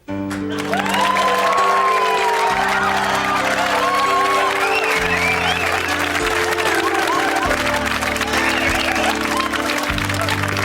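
A studio audience applauding and cheering on a comedy variety show, dense loud clapping with whoops, mixed with music that shifts chords as a band begins playing underneath.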